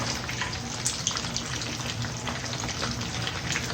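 Fish pieces frying in hot oil for a curry, a steady, dense hiss and crackle that holds an even level throughout, heard up close with no voices.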